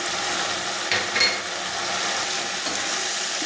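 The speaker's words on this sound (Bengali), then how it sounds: "দিয়ে দিচ্ছি ঢেঁড়সগুলো" Okra tipped into a simmering vegetable curry in a pan, a soft continuous sizzle with a few clattering knocks as the pieces land and are moved about, no talk.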